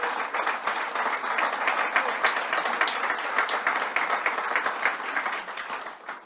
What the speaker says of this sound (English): Let's give Ruth a round of applause.